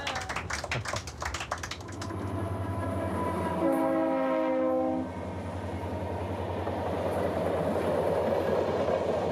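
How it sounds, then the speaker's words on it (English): A long ore train crosses the Mauritanian desert, sounding a loud sustained horn blast over the deep rumble and clatter of rolling wagons, the horn cutting off while the grinding rail noise continues. "Waiting for the ore train"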